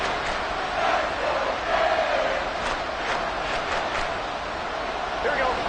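Roaring stadium crowd at a Bengals American football game late in the fourth quarter, a dense sustained wall of cheering at fever pitch with scattered shouts, while a commentator talks over it.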